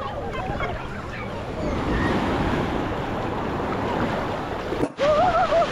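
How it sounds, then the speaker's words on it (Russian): Large sea waves crash and wash onto Mai Khao beach in Thailand, a continuous loud roaring surf with wind buffeting the microphone, and a voice briefly heard near the end. "Ну смотрите, как, смотрите размер волны."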